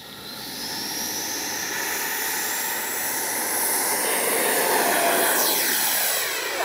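Freewing MiG-29 RC model jet taking off, its turbine rising from a rushing whine into a loud, steady roar that swells toward the end as the jet climbs away.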